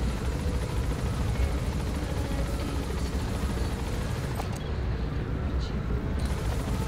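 A helicopter in the video game Metal Gear Solid V: The Phantom Pain gives a steady, loud rotor and engine drone that fills the whole stretch without a break, with no voices over it.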